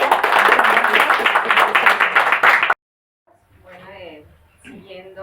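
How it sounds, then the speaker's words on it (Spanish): A burst of clapping from a group fills the first few seconds, then stops abruptly and a person begins speaking. "un aplauso para el grupo"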